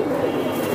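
Pigeon cooing at close range from a loft of ringed pigeons, a soft low murmuring coo filling the brief moment, fairly loud and alone.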